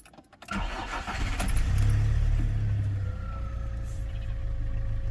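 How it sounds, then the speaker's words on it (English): A Volkswagen Jetta MK5 with a fault that makes it stall after starting cranks and fires up, then settles into a steady, close, loud idle with a low rumble and a faint whine. "Let me start the car first."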